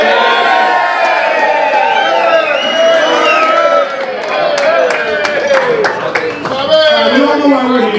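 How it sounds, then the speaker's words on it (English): Guests at a retirement party in a restaurant cheer, whoop and clap together in a loud, sustained burst of crowd noise, with shouts and voices mixed throughout. "Let's raise a glass and give a cheer for my friend Bobby here."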